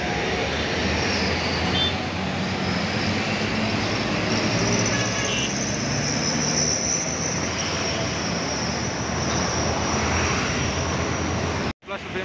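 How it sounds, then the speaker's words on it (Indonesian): An express train on the Surabaya–Madiun–Solo–Jogja line pulls away from the Medaeng three-way junction, a broad continuous rumble and roar with rising hiss, loud and steady for the whole stretch before cutting off abruptly at the end. "kereta cepat jurusan Surabaya Madiun Solo Jogja. Berangkat membawa cukup banyak penumpang meninggalkan simpang tiga Medang ini."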